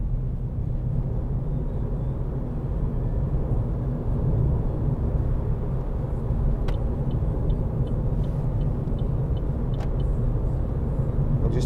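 A 2014 Vauxhall Corsa 1.4 ecoFLEX drives along, its engine and road noise forming a steady, loud interior rumble throughout, with a few faint ticks near the end and no talking.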